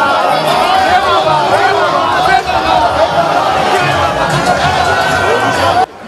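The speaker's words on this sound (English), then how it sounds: "This mammoth crowd of supporters" A huge crowd of supporters fills an APC governorship campaign grand-finale rally in Oka, Anambra State, giving a loud, steady roar of overlapping chatter and voices that holds almost without a break throughout.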